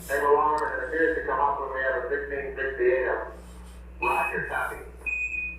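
A voice talks for a few seconds, then a spacecraft computer's short high-pitched 1202 alarm tone sounds twice, the second time under more talking.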